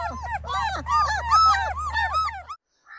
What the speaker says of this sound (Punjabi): ਬਹੁਤ ਖੂਬਸੂਰਤ ਸੋ ਚਾਰ ਫੀਮੇਲ ਦੋ ਮੇਲ ਡੌਗ